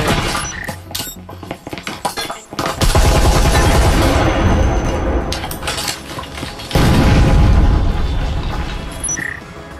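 Loud, close gunfire in the VR shooter Breachers: sharp shots and rattling automatic bursts, with metallic clinks scattered between the volleys.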